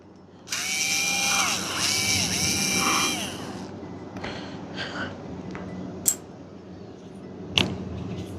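A power drill backs screws out of the motor mount on a Lasko B20301 box fan, whirring loudly and close for about three seconds with pitch sweeps, followed by quieter handling clatter and a few sharp clicks.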